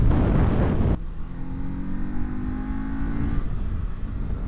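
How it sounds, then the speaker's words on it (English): Kawasaki Z500 motorcycle engine while riding, a steady droning buzz with wind rush after a loud burst at the start, the engine tone holding level and then easing off. "So the engine, you know, it sounds okay, but kind of sounds like an angry vacuum cleaner."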